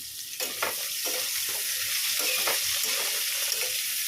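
Vegetable curry with chillies, salt and turmeric fries in a pan on a gas stove, a steady close sizzle with a few scraping stirs throughout, no talking.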